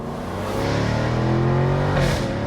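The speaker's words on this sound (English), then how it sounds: "The blare of the exhaust on those upshifts is crazy." A Jaguar F-Type R with exhaust valves open in sport mode, a loud close engine roar rising through the revs with a brief break and swell near the end, like an upshift, no talking.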